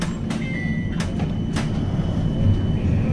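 A West Midlands Metro tram pulls away with a low rumble and rising drone, a few sharp clunks and a brief electric whine near the start, the rolling hum building steadily.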